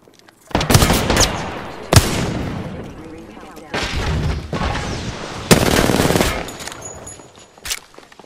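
Bursts of video game gunfire in a battle-royale firefight, several loud sharp shots and rapid volleys spread across the span, with a continuous layer of in-game noise between them.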